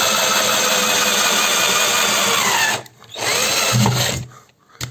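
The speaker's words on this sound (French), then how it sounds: "à la perceuse, c'est pas évident. On va essayer de repercer là." Power drill re-boring a hole in an aluminium bicycle frame, a steady loud whine for nearly three seconds that stops, briefly resumes, then cuts out again near the end.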